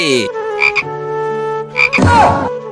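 A girl imitates a frog with her voice, giving a run of loud, close croaking calls in short bursts, with no other talk.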